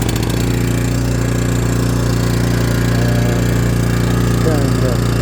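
An ATCO Balmoral 14SK lawn mower engine runs steadily and loudly nearby, a constant low mechanical drone throughout with a brief fluttery rise near the end.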